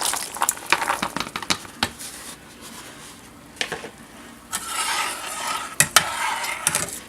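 Chopped celery, carrots, garlic, scallions, parsley and dill tumble into a pot, making soft patters and rustles, a few clinks of a utensil against the pot and a faint sizzle, close and in irregular bursts, with no talking.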